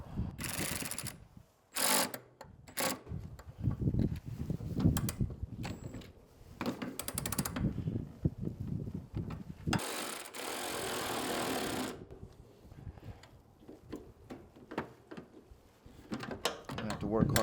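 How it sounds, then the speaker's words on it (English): Wrench working 10 mm nuts and bolts on an 80 Series Land Cruiser during an ARB twin compressor install, giving quiet intermittent ratcheting clicks and metallic scrapes in uneven bursts, mixed with handling noise. "we've got to tighten the actual bolts, nuts and bolts here, which are both 10s, and which I'll probably get to with a wrench"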